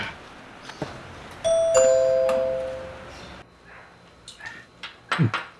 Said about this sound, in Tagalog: May doorbell ah.